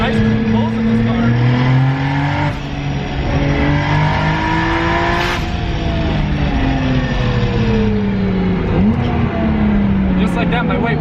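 A Nissan Skyline R33 with an RB26 engine accelerates hard, its loud close engine note rising steadily through the revs, dipping briefly at a gear change, then climbing again, with talk over the engine.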